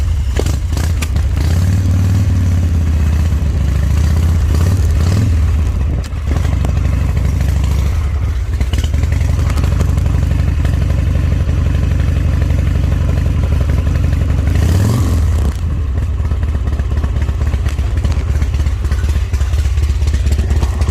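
A Harley motorcycle engine runs loud and close for the whole stretch, with a deep, steady rumble, a few rises in revs and mechanical clatter.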